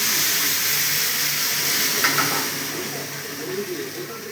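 Tempering spices sizzle loudly in hot oil for a mixed vegetable jhol, a steady dense hiss with a brief sharper burst partway through that slowly settles.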